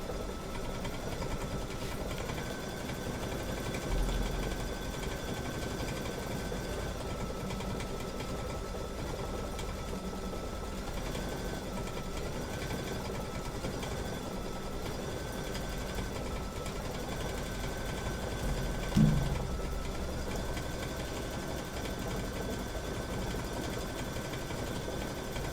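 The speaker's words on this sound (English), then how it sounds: "So that's what my machine is set on, 700 stitches per minute." A sewing machine set to 700 stitches per minute runs continuously at an even, rapid mechanical whir for the whole stretch, close and steady with only brief small bumps.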